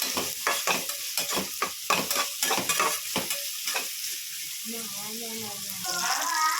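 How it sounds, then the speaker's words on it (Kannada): Carrots fry in oil in a pan for fried rice, with a rhythmic run of close scraping stirs over a steady sizzle, which then settles into plain sizzling as a voice talks. "ಕ್ಯಾರೆಟ್ ಹಾಕ್ತಾಯಿದ್ದೀನಿ. ಈಗ ಅದು ಸ್ವಲ್ಪ ಎಣ್ಣೆಲೇ ಬೇಯಲಿ."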